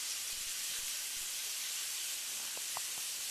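Flour-coated rouladen dusted with smoked paprika sizzle steadily in a hot cast iron pan, a continuous broad hiss with a few faint pops near the end and no voices.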